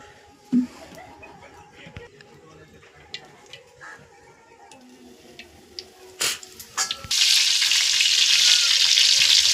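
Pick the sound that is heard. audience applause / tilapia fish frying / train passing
tilapia fish frying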